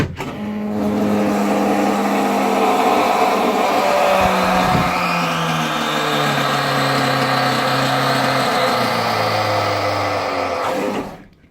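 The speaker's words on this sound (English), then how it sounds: "So it's a big electric motor that just pounces on it." A loud, steady electric brake motor whine from an International big block Quad Cab 4x4 truck, holding for about ten seconds, its pitch sliding slowly downward, then cutting off abruptly.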